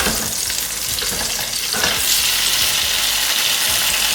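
Pasta sizzles in melted butter in a pan, a loud, close hiss with repeated scraping and stirring knocks as the pieces are moved around, continuing steadily throughout.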